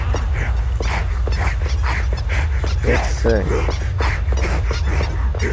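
A pet dog whimpers and gives short yips in a room while an online horror game about killer clowns plays, the small cries rising briefly under steady game sound and a person talking.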